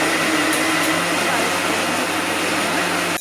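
A mixer grinder loudly whirs at steady high speed, grinding leftover pumpkin curry in the jar. The dense, unbroken motor roar fills the whole stretch at close range.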